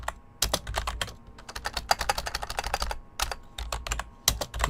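Fingers type on a computer keyboard close by in rapid bursts of crisp key clacks, broken by a couple of short pauses, with no one speaking.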